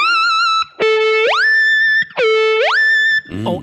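Electric guitar run through a Kemper Profiler pitch-shift effect, with the pitch slot overriding the wah pedal: two loud distorted notes, each gliding sharply upward to a held higher pitch, ending in a brief lower rumble.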